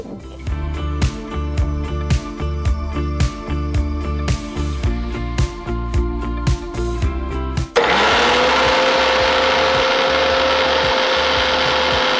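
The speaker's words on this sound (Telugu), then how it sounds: "ఇప్పుడు దీన్ని మిక్సీ పట్టేద్దాం." A mixer grinder whirs as it blends mango, yogurt and brown sugar, first in loud rhythmic chopping pulses for several seconds, then settling into a steady high-speed roar.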